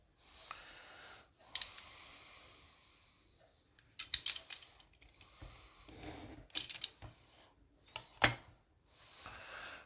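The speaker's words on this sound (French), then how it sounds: "On va couper ici sur 2 petites bandes." Scissors snip through paper in several separate bursts, cutting it into two small strips; crisp close-up cuts are spaced by short pauses, with no voices present.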